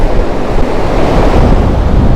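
Ocean surf at Ocean Beach rolls in as a loud, steady broadband roar, mixed with heavy wind buffeting the microphone, close and continuous with no voices.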